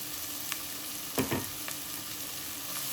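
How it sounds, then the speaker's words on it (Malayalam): Ginger, garlic, and cut green chillies sauté in a pan with salt for a chicken roast, giving a soft constant sizzle with a couple of brief louder stirring scrapes near the middle. "നമുക്ക് ഇഞ്ചിയും വെളുത്തുള്ളിയും ചേർത്ത് കൊടുക്കാം നാല് പച്ചമുളക് കട്ട് ചെയ്തും കൂടി ചേർക്കുന്നുണ്ട്"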